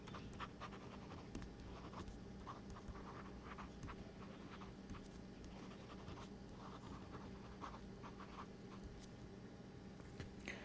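Stylus nib writing on a reMarkable 2 tablet's textured screen at an angle, giving a faint, close, continuous scratchy rustle with small irregular stroke accents and nothing else audible.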